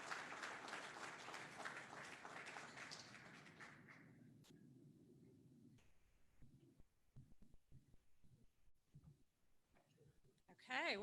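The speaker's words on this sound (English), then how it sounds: "Another round of applause, another great video from Visions" An online annual meeting and dinner audience gives dense applause for about four seconds. The clapping then fades into near quiet, broken by scattered small sounds and brief talk.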